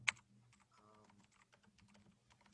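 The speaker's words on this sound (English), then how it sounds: "Are you typing something?" A computer keyboard being typed on in a steady run of close, crisp key clicks, with one sharper knock at the start and no talking.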